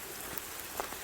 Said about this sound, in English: The rain was coming down quite heavily at times.